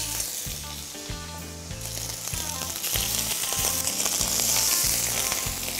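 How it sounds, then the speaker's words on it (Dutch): Prawns sizzle steadily in a very hot pan seasoned with a little pepper, a dense close frying hiss that builds slightly louder, with no talking. "Gewoon rustig laten bakken."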